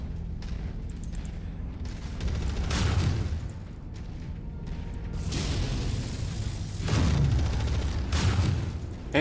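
PPC energy shots strike a mech in MechWarrior 5 amid battle rumble, with a few heavy booming impacts rising over a continuous low cockpit drone.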